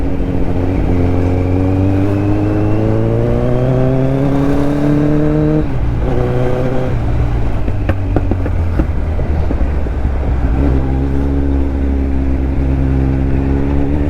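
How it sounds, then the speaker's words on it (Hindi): Kawasaki Z900 superbike engine running loud and close on a city street, with rising and falling harmonic revs as it accelerates, a brief dip mid-way, then pulling hard again under steady wind rush. "बाइक का साउंड सुन करके, वो भी इतने दिनों के बाद"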